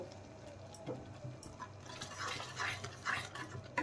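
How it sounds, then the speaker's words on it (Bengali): Spices being stirred into thickened tamarind chutney, heard as faint, irregular scraping and soft wet clicks from a spoon in a pan, quiet and close with no talking. "মশলা দিয়ে দেওয়ার পরে নেড়ে দিলাম"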